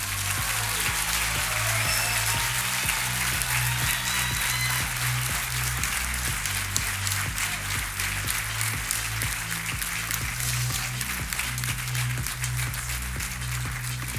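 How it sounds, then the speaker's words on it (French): A crowd at a Master's degree ceremony in human resources management applauds graduates with sustained, even clapping that runs throughout, fairly soft and distant, over a steady low musical drone. "On peut les applaudir bien fort."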